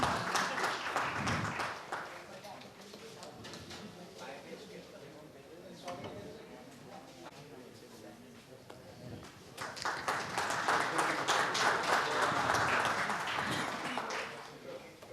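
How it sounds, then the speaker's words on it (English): Audience applause at a panel conclave on indirect tax, bursts of clapping that rise, fade under a voice talking, then swell again toward the end. "Please, let's have the applause going for all the conclave partner supporters here."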